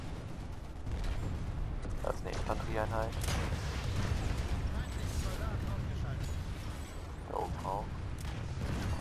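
Gunfire and battle noise from Planetside 2 rumble continuously in the background, dense and fairly distant, while a player talks calmly over it.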